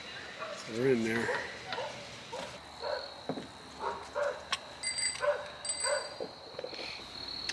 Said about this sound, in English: Sorry about the dog barking in the background